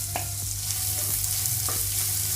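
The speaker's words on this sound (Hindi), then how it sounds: "थोड़ा सा प्याज को फ्राई कर लेंगे हम" Chopped onion frying in a pan while being stirred, a steady soft sizzle throughout with a few faint scraping stirs, close and without talk.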